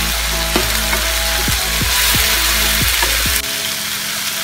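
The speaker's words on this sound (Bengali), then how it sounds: "টমেটোটা বেশ ভাজা ভাজা হয়ে গিয়েছে" Tomato paste with a little salt frying in a pan for a Bengali omelet curry, a continuous loud sizzle with a few scraping stirs of the spatula, then the sizzle briefly drops near the end.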